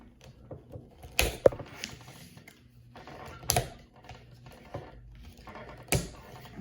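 Someone cuts a G.I. Joe Classified Tunnel Rat action figure out of its plastic and cardboard packaging. Faint, sporadic snips, crinkles and clicks come close by, with a few sharper cuts and no talk.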